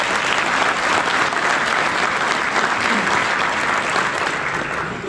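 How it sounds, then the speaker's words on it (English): A large audience at a VFW department convention claps in a loud, sustained round of applause, dense and even from start to finish with a slight fade at the end. "you ought to give yourselves a round of applause"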